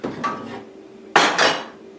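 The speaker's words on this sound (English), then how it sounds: "all the big pots and like pans and whatever, they go here" Big pots and pans being stacked away: two distinct bursts of loud metallic clattering and clanking, close by, separated by a short quieter pause, with no voices.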